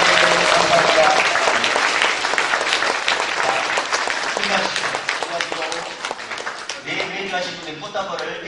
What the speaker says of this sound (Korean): 자, 우리 박수 한번 할까요?